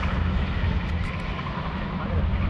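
A Jeep Renegade accelerates hard on a test track, its engine a steady, distant broad roar heard from afar with no voices over it.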